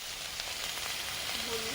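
Onion paste frying in a pan with black cumin, a dense, steady hiss of close sizzling oil throughout, with a faint voice briefly underneath.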